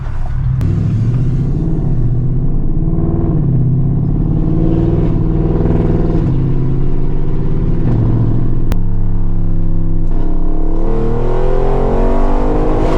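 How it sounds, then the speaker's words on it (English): An 800 hp Audi RS7 drives with a loud, continuous engine rumble heard from inside. The engine note rises and falls, with a sharp pop around the middle where it misfires. "That's a misfire."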